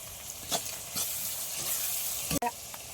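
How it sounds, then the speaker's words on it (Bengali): Onion and tomato fry in hot oil in a pan, giving a close, continuous sizzle broken by a few scraping stirs, with a sharp clatter near the end. "এবার পেঁয়াজটা একটু লাল লাল করে ভাজা হয়েছে"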